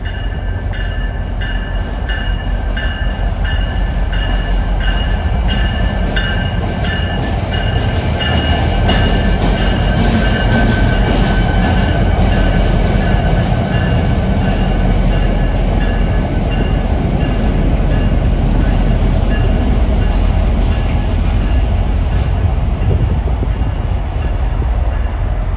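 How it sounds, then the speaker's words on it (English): An NJ Transit maintenance-of-way train rolls through Newark Broad Street, a loud, steady rumble of wheels and clattering rail joints, close by, with a brief high squeal partway through. "Some kind of maintenance away train."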